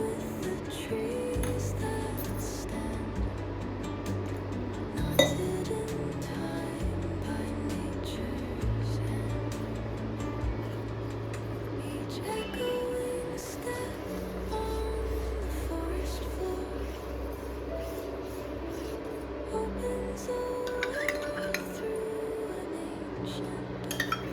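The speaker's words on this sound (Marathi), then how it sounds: "आणि छान ढवळत राहायचं आहे।" A spoon stirs custard powder into a badam (almond) milk shake mixture, making repeated light clinks and scrapes against the vessel over a low steady background hum.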